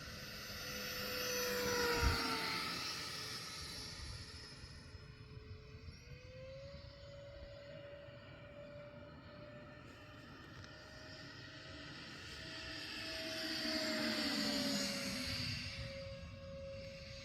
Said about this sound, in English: Check out this F-Flight A320 RC airliner in action